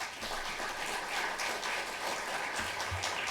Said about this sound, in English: may I ask you to once again applaud them